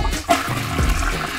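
A toilet flushes with a steady rushing swirl of water, close and fairly loud, continuing for the whole moment.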